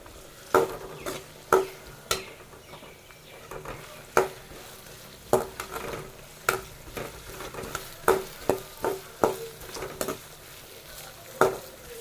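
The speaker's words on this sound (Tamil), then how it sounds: "இப்போது நம்ம எண்ணெயில் எல்லா வெங்காயத்தையும் சேர்த்தாச்சு. இதை நல்லா வதக்கி விடணும்." Small onions sautéing in oil with fenugreek, a soft steady sizzle broken by sharp, irregular clinks of a spoon striking the pan during stirring, close by.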